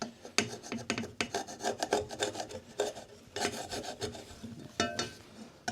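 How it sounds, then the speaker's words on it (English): Rapid rasping and scrubbing bursts from a drill with a nylon wheel scrubbing an old gasket, loud and close, coming in uneven pulses with brief pauses between passes. "I do have some nylon drill attachment and nylon wire wheels"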